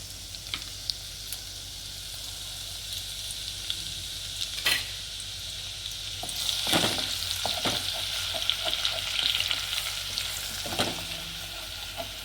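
Garlic fries in melted butter in a pan while being stirred, a bright continuous sizzle with scattered crackles and spoon scrapes and no voices.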